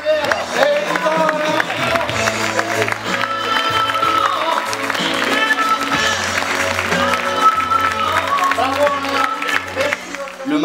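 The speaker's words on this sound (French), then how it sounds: "Allez, applaudissez la main derrière." Applause and crowd noise at a comedy show rise over loud music, with voices and cheering mixed into the steady din.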